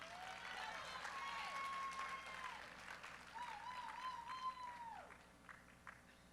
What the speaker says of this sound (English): Let's get another round of applause to these ladies.